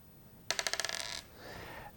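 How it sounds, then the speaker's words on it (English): Small dice tossed during a tabletop simulation game rattle and clatter in a quick run of bouncing clicks that settle within about a second, followed by a brief fainter scrape, with no voices. "So you just roll the dice"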